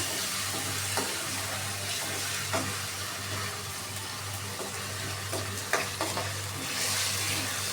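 Beef bone and bottle gourd curry being stirred in a pan, a continuous sizzling simmer with occasional scraping clicks of the utensil and a low steady hum underneath, no talking.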